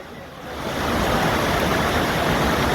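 Monsoon floodwater rushes at Jatashankar waterfall near Junagadh, a loud, steady roar of falling water that swells within the first second and then holds without a break.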